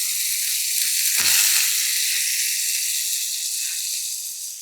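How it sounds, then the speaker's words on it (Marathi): A steady loud hiss of hot oil sizzles throughout, with a sudden deeper splash and burst of sizzling as cooked lentils drop into the tempering. "आता ही शिजलेली सगळी डाळ यामध्ये फोडणीमध्ये घालूयात"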